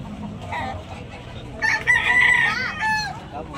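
A rooster crows loudly and close by at a backyard chicken sale in Tabunok, Talisay, Cebu, one drawn-out call rising over a low murmur of voices and faint background noise.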